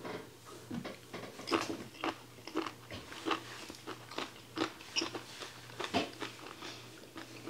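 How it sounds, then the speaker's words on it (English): Freeze-dried green beans are chewed close to the microphone, with a steady run of crisp bites and crunches, repeated every half second or so, with no talk. "They're much chewier than a fresh green bean."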